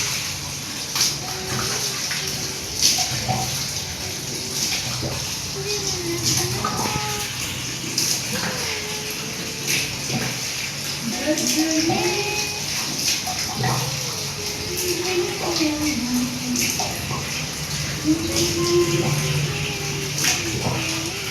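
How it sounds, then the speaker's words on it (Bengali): Water running and splashing during a bath in a bathroom, a steady, fairly close wash of sound with small knocks and shifting tones throughout. "দেখো এখানে কিন্তু স্নান করছি"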